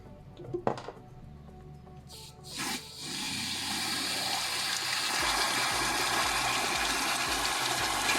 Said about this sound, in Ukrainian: і проганяємо трохи водою.